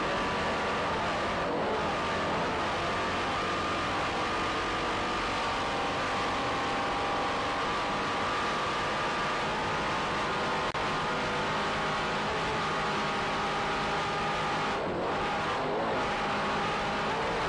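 Offshore racing powerboat engines at the 1993 U.S. Offshore World Championships in Ft. Lauderdale, a steady loud droning roar as the B-class boat swings around a turn, continuous throughout with no talk.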